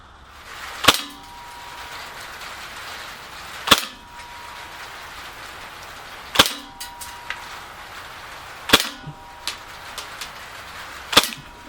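Five sharp shots from a KWC Mini Uzi BB gun fired at the lower part of a target in a field, spaced a few seconds apart with short rattling after each, over steady outdoor background noise.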